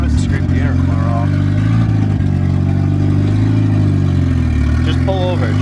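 A Nissan 240SX fitted with a budget turbo kit, engine droning steadily from inside the cabin as it pulls and revs in a low, constant hum, with voices talking over it.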